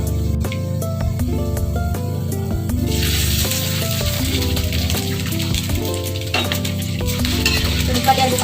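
Sausage and corned beef frying in a pan over low heat, a steady close sizzle with stirring scrapes and clinks of a utensil throughout, no voices.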